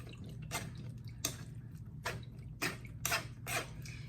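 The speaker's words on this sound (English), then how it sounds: "moving my spoon and mashing the cranberries into the strainer to gain as much juice out as I possibly can" Fresh cranberry juice drips from mashed cranberries through a strainer, falling in about six distinct, close splashy drops at irregular intervals over a low background hum.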